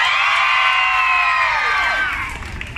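An outdoor show crowd in Pánuco, Veracruz shouting and cheering loudly in one sustained, dense roar that gradually dies down near the end.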